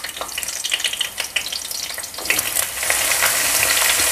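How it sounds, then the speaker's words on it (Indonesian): Onions dropped into hot oil in a Taiwanese-style chicken curry, a close sizzle that crackles unevenly at first, then swells into a steady loud hiss after the second or so of stirring, with no talk. "Kalau dirasa minyaknya sudah panas, masukkan dulu bawang bombaynya, teman-teman."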